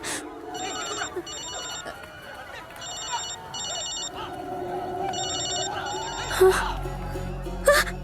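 A mobile phone ringtone repeats in steady electronic bursts, fairly loud, before a rustle and louder thumps toward the end.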